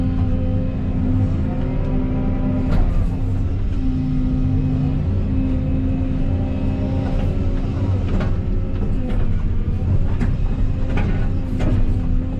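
An old Volvo machine engine running rough outdoors, a loud continuous low rumble with uneven throbbing and occasional clanks and knocks over its steady drone.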